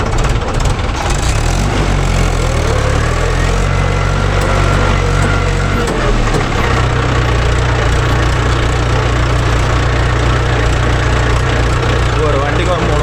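Mahindra Yuvo Tech Plus 585 4WD and 575 DI tractors run with a 9-tine cultivator in a field, a loud, steady diesel drone with a deep throbbing rumble that continues throughout while people talk over it.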